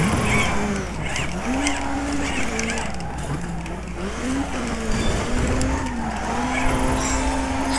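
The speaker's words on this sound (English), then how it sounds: "Oh, I'm supposed to drift through all of those." In DiRT 3 gymkhana, a rally car drifts in long sliding arcs, tires squealing over and over while the engine note swells and dips in waves. The sound is loud and close, with a voice speaking now and then.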